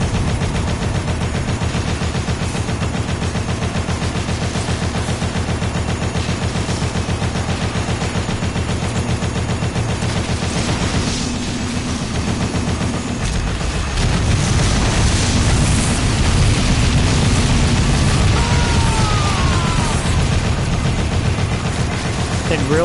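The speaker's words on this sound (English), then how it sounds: "I keep sending guided missiles." Guided missiles fire and explode repeatedly in Dead Rising, a dense, loud barrage of booms and gunfire-like blasts that runs throughout, with a heavier burst partway through.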